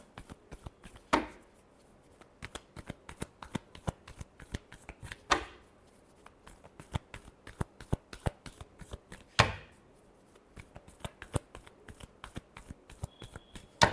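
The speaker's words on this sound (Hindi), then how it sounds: "Last shuffle." Tarot cards are shuffled by hand in repeated bursts of crisp riffling clicks, with three longer riffles spaced through and no voices over them.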